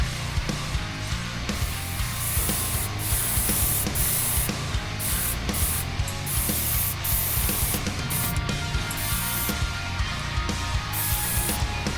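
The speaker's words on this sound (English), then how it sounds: "So let's just do a light coat of gold." An airbrush sprays a light coat of gold paint onto a 1:350 Enterprise Refit model, giving a steady close hiss that runs unbroken and alone, with small flutters in the air flow.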